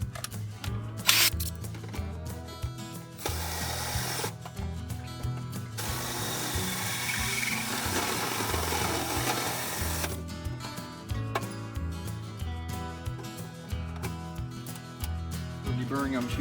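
A 3.5-inch hole saw driven by a drill cuts into a truck bed in bursts: the motor whines and the teeth grind and chatter against the metal, pausing between passes, close and fairly loud.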